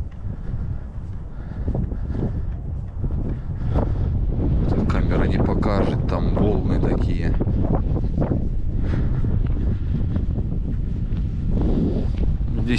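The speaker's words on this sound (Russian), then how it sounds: "Ветер не такой сильный, но холодный, пронизывающий." Strong, cold, piercing wind buffets the microphone with a low, rumbling roar on a frozen sandy beach in Yeysk, Russia, blowing steadily and loud; a voice speaks under it at times.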